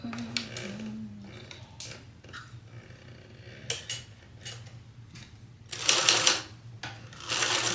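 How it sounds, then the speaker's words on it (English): Sewing machine basting fabric at a 1/8 inch seam allowance for a fringe Heidi clutch bag, quiet intermittent stitching runs with a low motor hum and clicks, louder busy bursts near the end. "Basting it at 1/8 of an inch seam allowance."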